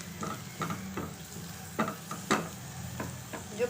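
A spoon stirs sautéed onions and green chili in a pan, scraping in several soft separate strokes over a steady low sizzle of frying, close up with no talking.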